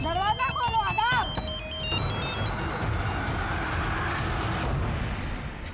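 A mobile phone rings with a melodic electronic ringtone for about two seconds in an indoor scene from a Hindi crime drama, then steady room noise continues.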